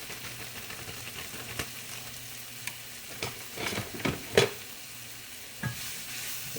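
Apple stuffing with celery and seasoning sizzles steadily in a hot pan on medium-high heat while a utensil stirs it, giving soft scraping and a few louder clatters against the pan, with no talking.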